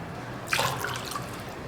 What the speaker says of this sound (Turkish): 3 su bardağı da ılık su.